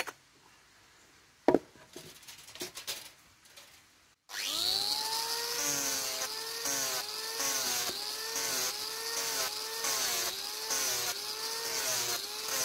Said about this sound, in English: it just needs a little bit of sanding down with the grinder